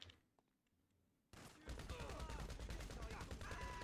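Heavy gunfire erupts in GTA V Online after a quiet stretch, a loud, dense barrage of rapid overlapping shots that keeps going to the end.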